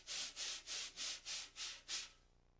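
Wire brushes sweep in broad strokes across a brand new drum head, seven even, rhythmic swishes in a row, close and steady with no talk.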